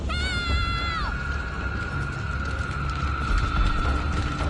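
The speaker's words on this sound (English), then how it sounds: "we can already hear Ashley screaming in the distance" In Resident Evil 4, Ashley screams far off: a single high wavering cry that falls away within about a second, leaving a thin fading tone over low game ambience.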